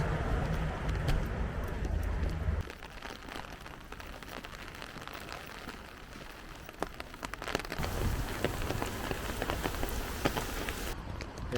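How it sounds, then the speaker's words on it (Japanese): Steady rain falls on surfaces in Lisbon during the rainy season, a continuous close patter with a heavier low rumble at the start, brief drips throughout and no speech. "案の定また雨が"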